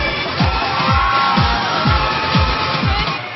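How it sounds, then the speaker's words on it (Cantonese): Dense, steady audience applause and cheering at a Metro Radio (新城) music awards ceremony, rolling on continuously over a thumping music beat. "俾啲掌聲！"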